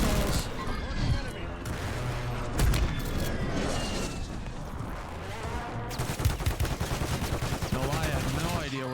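Shotgun and other gunfire in the Warzone battle royale game, with loud, repeated blasts and rapid bursts over dense in-game noise, bunched heavily toward the end, and a voice talking underneath.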